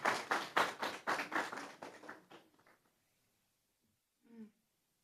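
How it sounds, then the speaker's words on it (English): School board meeting audience applauds a speaker: a short, fairly quiet burst of scattered claps that thins out and fades within a couple of seconds, then a brief voice after a pause. "Let's give Ms. Johnson a round of applause."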